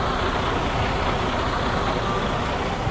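A 2020 Freightliner Cascadia 113 truck runs nearby with a steady, dense engine drone that holds without a break.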